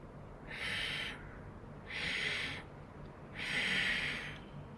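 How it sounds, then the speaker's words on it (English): Three slow, drawn-out breaths of Ujjayi yoga breathing, each a soft throaty hiss lasting about a second, evenly spaced, close and quiet. "Ujjayi, inhale."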